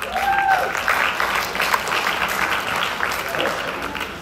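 Audience applause at a film screening event honoring Olympic water polo athletes and coaches. A full room claps steadily and loudly, with a few faint whistles and cheers mixed in.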